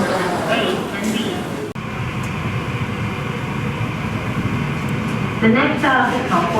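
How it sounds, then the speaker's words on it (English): Inside an airport concourse shuttle train, a continuous low rumble and hum of the moving car, with muffled voice announcements at the start and end. "Please board this train for concourses A and B."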